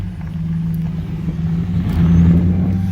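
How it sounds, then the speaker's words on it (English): A Dodge Challenger roars past fast and loud, its engine swelling to a peak around two seconds and then easing slightly, with no talking. "That's one fast car right there, fellas."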